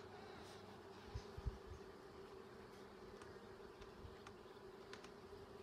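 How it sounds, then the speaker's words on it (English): A swarm of wild honeybees hums continuously in a steady, faint buzzing drone, with a few scattered knocks and rustles near the start, recorded quietly without speech. "These are wild honeybees."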